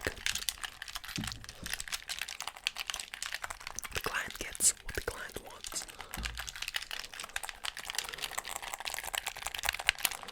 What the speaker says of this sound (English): fast button clicking.